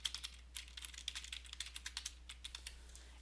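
A computer keyboard clatters in a quick, uneven run of close, crisp keystrokes as an item name is typed in, with a low steady hum underneath and no talking.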